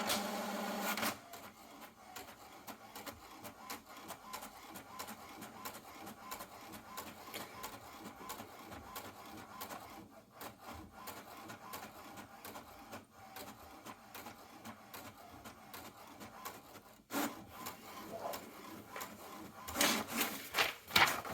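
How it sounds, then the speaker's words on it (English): An HP Deskjet 2720e inkjet printer wakes up and whirs and chatters steadily, with rapid mechanical clicks and a soft rhythmic feed, ending in a few louder clacks. "Printer's just waking up, so it's going to take a second."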